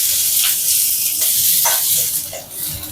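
Onions frying in hot oil with mustard seeds and two dried red chillies for a spinach dish, giving a steady close sizzle with brief crackling pops throughout.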